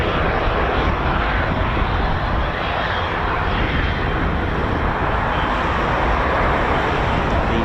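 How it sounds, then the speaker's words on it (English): A modified Dornier 328 military aircraft, based on the Dornier 328, gives off a loud, steady engine roar and broad rushing noise that holds level throughout, with no talking. "basically a modified Dornier."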